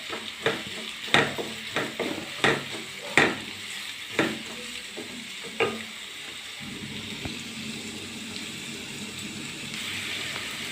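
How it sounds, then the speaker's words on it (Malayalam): Kolli vada mixture being stirred as it fries in a pan, a steady close sizzle with several sharp clinking scrapes of the spoon against the pan early on, then continuous frying hiss alone. "നന്നായി ഇളക്കി കൊടുക്കുക"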